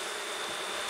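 Dense, steady buzzing of many honeybees swarming in the air around an opened, struggling hive, close and continuous with no pauses.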